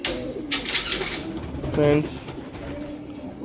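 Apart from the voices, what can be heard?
pigeons cooing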